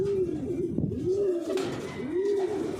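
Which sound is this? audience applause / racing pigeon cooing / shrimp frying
racing pigeon cooing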